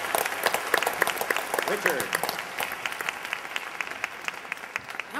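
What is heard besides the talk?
audience applause for a panel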